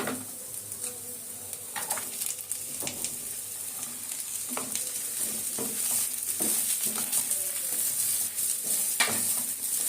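Chopped ash gourd with a couple of split green chillies sizzles and crackles steadily in a hot pan for a Bengali vegetarian ghonto, a dense frying hiss broken by occasional stirring clatters, close and continuous.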